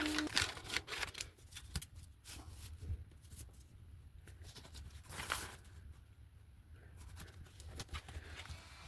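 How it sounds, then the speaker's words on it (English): Paper being cut by hand to fit inside a handmade woodland forest journal, a series of soft, close snips and rustles with a brief crinkle near the middle, quiet and without talk. "So I'm going to cut that to fit."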